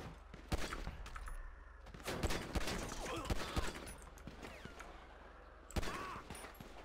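Bursts of suspects' gunfire in GTA 5 police role play in North Yankton, several sharp volleys of shots scattered through, one loud cluster near the start and another toward the end, no talk.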